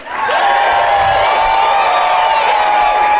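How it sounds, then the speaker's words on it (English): A live audience fills the room with loud, dense applause and cheering, sustained evenly throughout. "the biggest round of applause you can muster for Arnie Niekamp"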